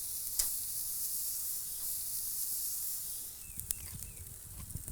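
Leeks char on a hot pan in a loud, steady hissing sizzle, with a few clicks and light scrapes of the pan toward the end. No talk is heard.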